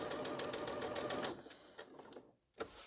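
A sewing machine runs a straight stitch around crazy patchwork, a fast steady whirring chatter that stops partway through, leaving a few soft handling clicks and taps.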